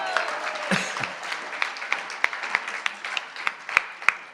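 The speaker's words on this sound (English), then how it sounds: "Give her a big round of applause." Moderate applause from an audience at a Kartik parikrama gathering with Indradyumna Swami in Jaipur, sparse claps sounding through a soft crowd murmur with a few sharp louder claps near the end.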